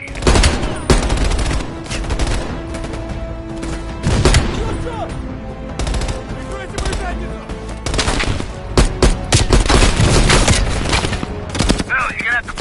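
Sustained machine-gun fire from an entrenched MG position in a war video game, loud rapid bursts with other gunshots and booms in a dense battle mix, voices talking over the action.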